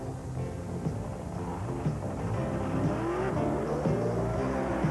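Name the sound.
drag race car doing a burnout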